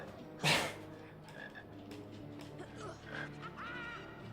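A croaking frog in the PC game Harry Potter and the Philosopher's Stone: one loud burst near the start, then quieter warbling croaks and chirps against a soft musical background.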